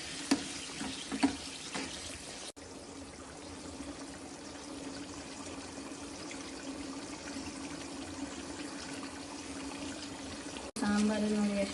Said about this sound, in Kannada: ಸಾಂಬಾರು ನೋಡಿ ಎಷ್ಟು ಚೆನ್ನಾಗಿ ಕುದೀತಾ ಇದೆ ಒಗ್ಗರಣೆಯಲ್ಲಿ